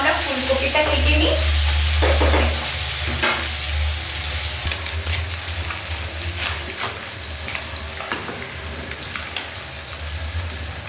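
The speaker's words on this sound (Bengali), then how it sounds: "আমি মাছের পিসগুলো উল্টিয়ে দিয়ে দিয়েছি, আর এগুলো এবার ফ্রাই হতে হতে" Rohu fish pieces crackle and sizzle in hot oil in a pan after being flipped, a dense continuous fry with occasional sharper spatters over a low steady hum.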